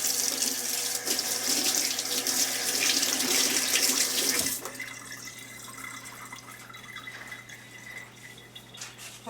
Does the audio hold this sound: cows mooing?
no